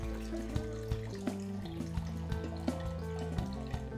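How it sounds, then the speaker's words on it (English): Tap water runs steadily into a measuring cup, making a continuous pouring and gurgling sound whose pitch rises as the cup fills, close by and with no voices. "we're gonna measure out our 250 milliliters of water"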